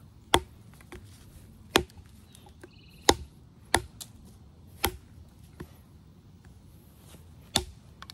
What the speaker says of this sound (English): we're just gonna kind of see if it can do those good little snap chops